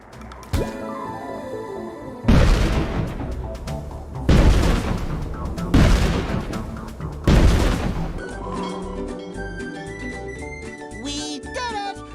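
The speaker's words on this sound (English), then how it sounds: "you'll be able to shoot the Dutchman's cannons to destroy the robot ship" The Flying Dutchman's cannons blast in a SpongeBob SquarePants video game, four loud booms spaced about every one and a half seconds against game music, trailing off into a musical sting.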